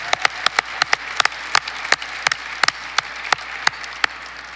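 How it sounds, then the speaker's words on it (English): Audience applause for civil rights activist Diane Nash at an MLK Day celebration, sharp distinct claps from a modest crowd ringing out in a loud, uneven patter that continues steadily. "Another round of applause for a freedom fighter, a foot soldier, the incomparable Diane Nash."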